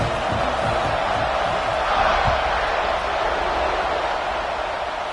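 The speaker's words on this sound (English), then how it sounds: "this crowd is buzzing after that last score." A football stadium crowd buzzes after a score, a dense, steady roar of many voices with scattered shouts, continuous and broad throughout.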